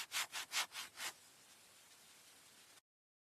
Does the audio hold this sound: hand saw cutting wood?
yes